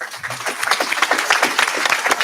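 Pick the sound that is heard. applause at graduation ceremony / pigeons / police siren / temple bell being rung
applause at graduation ceremony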